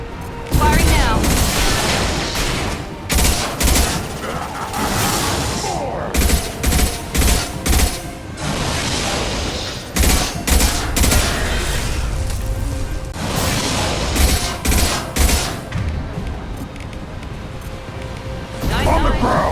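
Sustained video game gunfire from Mass Effect 2, with dense bursts of automatic weapons, heavy booms and mechanical clatter, loud and close throughout, with voices mixed in among the shots.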